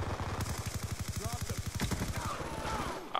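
Automatic gunfire in the shooter Black Ops 2, a long, fast, evenly spaced machine-gun burst that holds for nearly three seconds before cutting off, with sparse game sounds after it.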